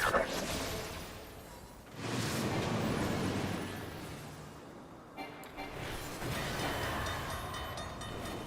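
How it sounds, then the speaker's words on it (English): A train rushes past in Final Fantasy XIV, a broad roaring swell that rises, holds and fades, then returns with a second loud wave of rumble and rattle, no voices over it. "Train almost got me too."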